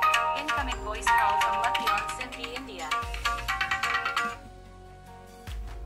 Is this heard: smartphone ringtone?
yes